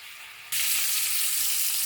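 Mushrooms and pork tenderloin hit hot oil in a pan, a loud sustained sizzle that bursts in abruptly and holds steady and close, with no talking.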